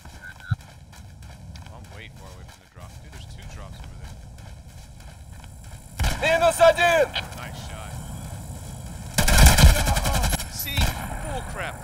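Gunfire in the online shooter game Hired Ops: two loud bursts of rapid automatic fire over a steady background of game noise, with players talking.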